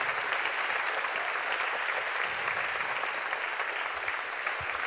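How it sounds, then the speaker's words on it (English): An audience in the Cambridge Union debating chamber claps steadily, a dense, even burst of applause lasting the whole few seconds. "So can you give Julia a round of applause?"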